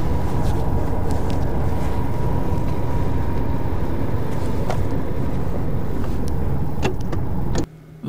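Car driving along Riksvei 1 through Vestby, with a steady, loud road and engine rumble from inside the cabin and a few faint clicks, cutting off abruptly near the end.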